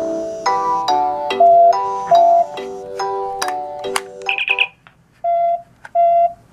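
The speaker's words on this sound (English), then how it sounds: "the communicator makes its beeping sound" A Star Trek original-series communicator replica, a Bluetooth phone handset, sounds its incoming-call alert: a loud rhythmic series of electronic chirps and beeps, a brief high warble, then two separated tones.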